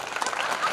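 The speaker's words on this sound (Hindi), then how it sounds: "बोर हो रहे हो तो एक बार जोर से ताली बजा देना" Audience applause at a school farewell ceremony, a short burst of dense clapping filling the space at steady loudness.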